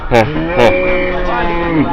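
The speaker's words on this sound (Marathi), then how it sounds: "बैल आहे ती" A bull moos twice in quick succession, loud and close, each call a short rising bellow followed by a long droning tone that trails off.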